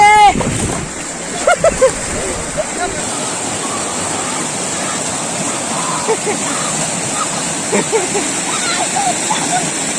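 A large waterfall pours down into a river in the Konkan countryside, sending up a loud, close, steady roar of rushing and splashing water. A few sharper splashes come near the start, and faint voices sit beneath it.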